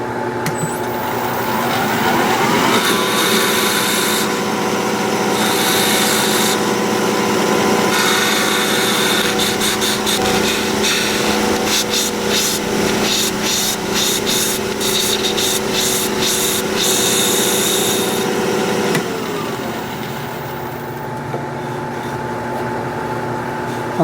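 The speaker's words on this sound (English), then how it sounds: "Maybe I'll go ahead and sand this all up now." Sandpaper rubbing against a wood-turned lid spinning on a lathe, a steady close abrasive whir with the motor's hum beneath, continuous throughout with denser scratchy texture in the middle stretch.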